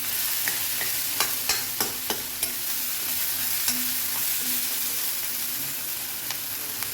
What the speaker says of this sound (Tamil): அதையும் இந்த ஆனியன்லேயே போட்டு வதக்கலாம்.